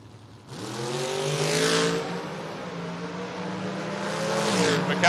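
A 1965 Ford Mustang launches at a drag strip with other drag cars, its engine roaring loudly and revving up steadily as it pulls away, staying strong and continuous throughout.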